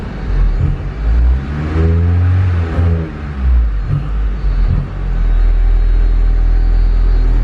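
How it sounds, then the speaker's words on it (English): A built K24 turbo engine in a Honda Civic EP3 fails to rev on throttle: loud, close blips rise and fall back several times, then settle into a steady low rumble. "Even when you can see I'm hitting the throttle and it's just wanting to die."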